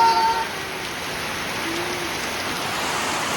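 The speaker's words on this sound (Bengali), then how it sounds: "ও সে বৃষ্টি" Steady rain falls continuously, a soft even hiss that stays close and constant throughout, with no voices.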